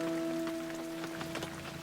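Light rain patters softly and steadily on leaves and surfaces in an orchard in the Yarra Valley, a faint, continuous drizzle with scattered distinct droplets and no voices.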